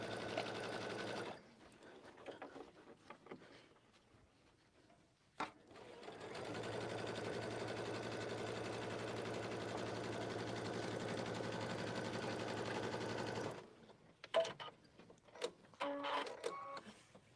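A sewing machine stitches fabric, sewing down the edge of two back pieces. It runs in a steady mechanical whir, briefly stops, then hums continuously for several seconds before going quiet under faint handling noises.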